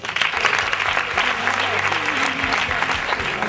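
Dinner guests at an anniversary celebration clap for a speaker, a steady round of applause with some voices and tonal chatter under it, lasting a few seconds.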